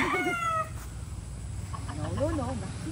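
A rooster gives a short crowing call at the start, followed by more squawking calls from gamecocks being handled, with voices and background noise throughout.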